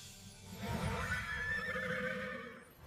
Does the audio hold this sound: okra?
no